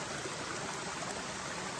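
Steady broadband rush of clean stream water flowing at a waterfall, continuous and fairly close with no break or voices over it.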